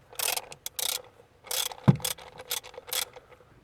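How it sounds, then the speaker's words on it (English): An E8 Torx socket on a ratchet loosens coil pack bolts on a Mercedes W203 C-Class engine, heard as close bursts of rapid ratchet clicking with a sharp metallic knock between strokes. "with the E8 Torx, I'm going to remove the bolts which holds the coil pack in place"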